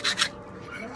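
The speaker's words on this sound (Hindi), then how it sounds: "ये मैं रेती से इसको घिस दे रहा हूँ।" A hand rasp file scrapes across the metal plate inside a bike horn in two quick, close strokes at the start. A quieter scratchy rasping follows.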